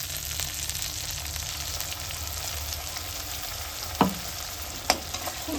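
Tomato and onion fry in a pan with steady close sizzling and crackling, punctuated by a couple of sharp spoon or spatula knocks near the end, with no voices.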